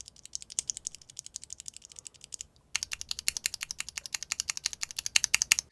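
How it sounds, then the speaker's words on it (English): Stock Cherry MX Black switches fitted with SA profile keycaps typed in a fast, steady run of clacking keystrokes, close up, with a brief pause partway through. "Cherry MX Black."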